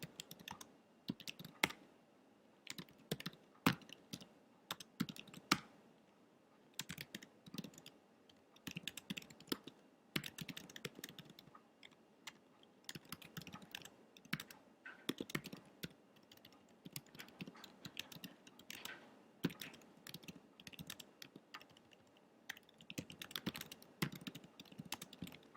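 Steady typing on a computer keyboard while writing a note, with irregular bursts of soft clicky keystrokes and short pauses, close and fairly quiet, no voices.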